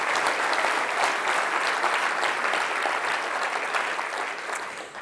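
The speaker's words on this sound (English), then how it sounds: "How about a nice round of applause for all of our electeds?" Sustained audience applause at a regional economic summit, many hands clapping densely and loudly for about five seconds before tapering slightly at the end.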